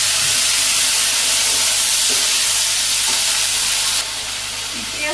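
Potatoes go into a pan of hot oil with cumin, dried chilies and onions and fry with a loud, continuous sizzle. Occasional stirring scrapes come through, and the hiss eases slightly near the end.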